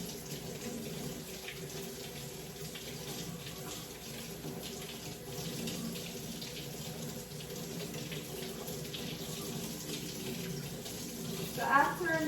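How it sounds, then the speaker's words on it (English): Tap water runs steadily into a bathroom or kitchen sink while a Medtronic Guardian Link transmitter is rinsed under it, a close, continuous splashing hiss with a brief louder gurgle near the end. "I'm just washing this at my sink."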